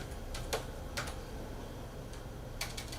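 Someone types a password on a computer keyboard, a few scattered soft clicks in short bursts with pauses between, quiet and close, no talking.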